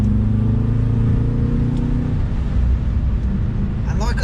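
A tuned BMW F10 M5 V8 pulls hard with a loud, steady low growl, its pitch easing and shifting near the end as the car accelerates close by.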